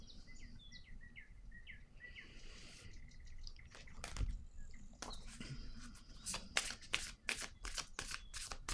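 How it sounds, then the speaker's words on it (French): Tarot cards are handled and set down on a table, making faint, quiet soft slaps and a rapid run of papery flicks toward the end, with birds chirping faintly in the background. "Je vais déposer une carte ici par curiosité."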